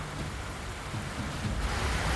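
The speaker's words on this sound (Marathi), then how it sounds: "नाशिक जिल्ह्यामध्ये जोरदार पाऊस बरसला." Heavy rain falling during a storm in Nashik district, a steady broadband wash of downpour with a low rumble underneath, holding even and fairly loud throughout with no voices.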